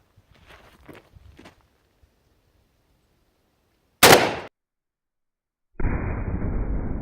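A 30-06 M2 ball rifle round fired into a stack of hard drives: a single loud, sharp report after faint footsteps and handling, then a steady muffled rushing noise to the end.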